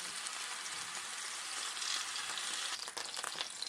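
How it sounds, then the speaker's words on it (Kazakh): Chicken sizzles and crackles steadily in a hot pan for a warm chicken salad, a close, continuous frying hiss with occasional pops and stirring. "осылай екі жағын қуырып Қатты пісірмей қуырып аламыз"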